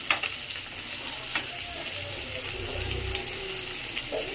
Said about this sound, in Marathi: शॅलो फ्राय करून घ्यायचं आहे आपण